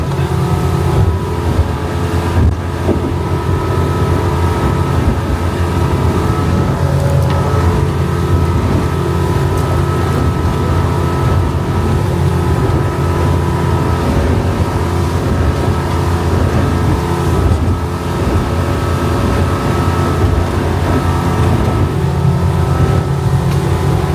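A small sea-fishing motorboat runs over choppy sea with a loud, steady engine drone and constant wind buffeting the microphone, with no talking.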